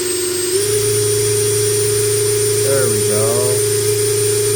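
A go-kart engine running steadily up at its rated speed, a constant loud hum with a high whine that steps up slightly early on, as a voice speaks briefly over it.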